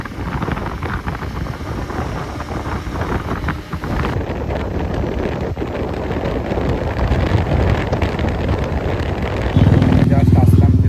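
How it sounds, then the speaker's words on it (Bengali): Steady motorcycle engine drone and heavy wind rush while riding on the road to a KTM Duke 160 launch event in Krishnanagar, continuous and close, growing louder near the end. "তো সেই জন্য ঠিক করলাম যে আমি আর রবিদা বাইকেই চলে যাব"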